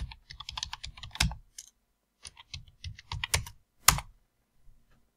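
Fast keystrokes on a computer keyboard come in two bursts of clicky, close typing, with a pause between and a firmer final key tap.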